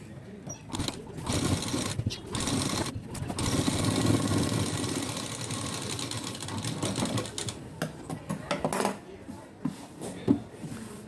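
A sewing machine stitches pieces of a blouse together, its motor whirring in steady bursts with short pauses between runs, close and fairly loud, with some background noise.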